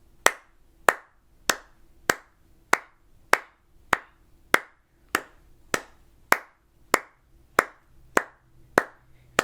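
Sharp hand claps repeat at an even, moderate tempo, about fifteen in a row, close and clear with nothing else behind them.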